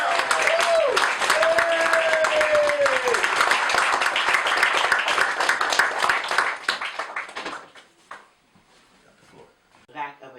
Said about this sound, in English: I want you to applaud loud enough for them to hear it